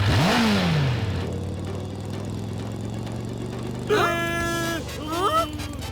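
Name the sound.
motorbike accelerating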